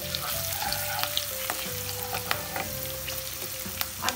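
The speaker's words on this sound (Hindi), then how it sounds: "इसमें अब हम तेल में ही हल्दी को पका देंगे।" Turmeric cooks in hot oil with ginger, green chilli and curry leaves for an onion sabzi: a steady close sizzle and crackle, broken by occasional spoon taps and scrapes against the pan.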